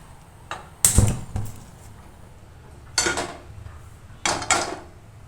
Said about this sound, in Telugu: ఇప్పుడు ఏంటంటే స్టవ్ ఆన్ చేసి ప్యాన్ పెట్టుకుందాం